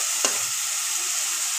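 Spice masala for a Bengali pabda fish curry cooked down in oil, a soft steady sizzle with a single brief clink or scrape near the start.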